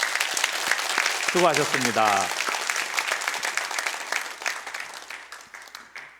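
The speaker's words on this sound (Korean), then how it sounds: "감사와 격려의 박수 우리 한번" Congregation at a Sunday afternoon church service bursts into applause, a dense wash of clapping that swells and then gradually fades, with a voice speaking briefly over it near the start.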